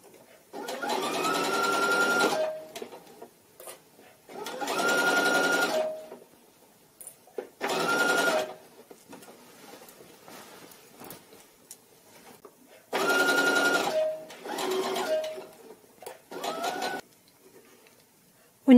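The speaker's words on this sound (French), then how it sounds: "Épingler tout le tour de l'encolure et coudre à 1 cm du bord." A sewing machine stitches around the neckline of a party dress in several bursts of rapid whirring separated by quiet pauses, close and clear.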